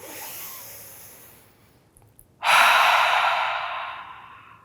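Deep closing breath at the end of a beginner yoga stretch session: a soft nasal inhale, a short pause, then a loud, long whooshing exhale through the mouth that slowly fades, close and alone.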